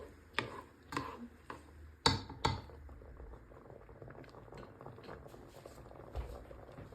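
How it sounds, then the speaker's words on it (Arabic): Lentil soup with rice and bulgur simmers in a pot on low heat, a soft continuous bubbling and popping broken by a few sharp clacks of a spoon or lid early on, then quieter burbling. "بنتركها على نار هادية، وكل شوي تاني بنشق عليها مشان ما بعد الشر تحترق، وبنحركها"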